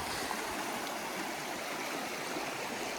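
Pekisko Creek in Kananaskis flows steadily with a continuous broad rushing and gurgling wash, close and unbroken throughout.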